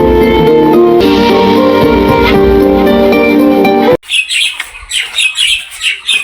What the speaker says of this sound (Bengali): এই যে গ্রামের এই কিচিরমিচির পাখির ডাকগুলোই সবচেয়ে বেশি সুন্দর লাগে আমাদের কাছে